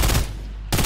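Gunfire in a multiplayer video game: two loud, close automatic bursts separated by a brief gap.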